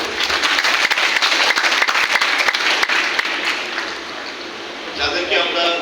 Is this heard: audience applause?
yes